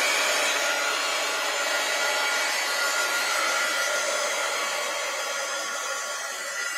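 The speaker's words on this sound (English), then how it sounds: "I think I better dry it. Heat gun alert." Heat gun blowing on a wet craft project, a steady loud whooshing fan-and-heater hiss that runs unbroken for several seconds.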